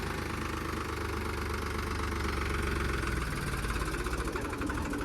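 A tractor engine runs continuously with a knocking diesel idle that is pushed to a higher rev partway through, loud and close with no talking.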